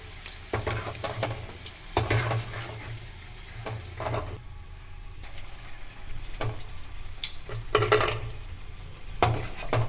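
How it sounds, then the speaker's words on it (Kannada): Homemade chicken kabab pieces fry in oil in a pan, with an uneven crackling sizzle broken by repeated scrapes and clinks of a utensil against the pan, close by. "ಅದನ್ನು ಚೆನ್ನಾಗಿ ಫ್ರೈ ಮಾಡ್ಕೊತೀನಿ"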